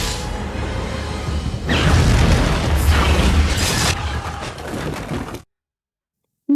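A loud, sustained roar of booms and bursts from New Year firecrackers exploding, rumbling continuously for about five seconds before cutting abruptly to silence.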